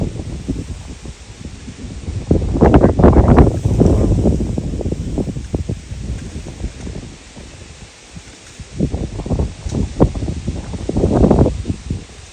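Wind gusting across a microphone on a riverbank beside the River Ant at Sutton Staithe, a loud, steady rumbling buffet that swells and eases in waves, with no voices.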